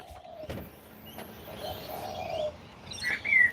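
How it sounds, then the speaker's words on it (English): A pigeon's soft low coo and brief sparrow chirps sound outdoors, a few scattered calls at moderate distance with a slightly louder chirping burst near the end, with no voices. "pigeon. I've got honeysuckler, sparrows."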